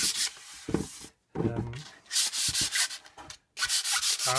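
Sandpaper rubbed by hand along the grain of painted wood, in a series of rasping strokes of irregular length with short pauses between them, close and fairly loud with no talking.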